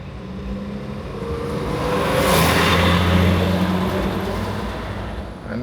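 Busy city traffic in Harare, Zimbabwe, with engines rumbling and swelling steadily as vehicles crawl and pass close by, a continuous loud drone that peaks in the middle and eases toward the end.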